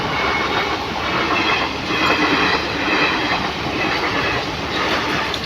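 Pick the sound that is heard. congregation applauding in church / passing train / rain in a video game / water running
passing train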